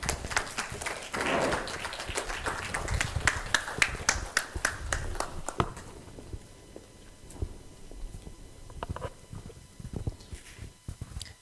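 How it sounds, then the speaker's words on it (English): Applause from a conference audience on ocean governance, dense for the first several seconds and then thinning to scattered claps and taps as it dies away, heard in a large hall with some voices at low level. "A hand of applause, please."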